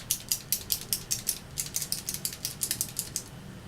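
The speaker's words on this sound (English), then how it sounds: "Just going to shake it up." A Maybelline Lash Stiletto liquid eyeliner being shaken, a quick steady series of light rattling clicks, about sixteen shakes, close and alone.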